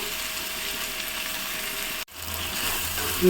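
Tomatoes sautéing in a pan for a white peas sundal kuzhambu give a steady, close sizzle with a brief cut near the middle, then the frying resumes.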